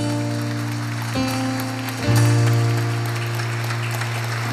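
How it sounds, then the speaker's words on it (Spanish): A church congregation applauding a statue of the Virgin Mary: a sustained, wash-like clapping that swells around the two-second mark over a steady tonal hum, then holds at a constant level. "Dale un aplauso bien fuerte a nuestra Madre Santísima."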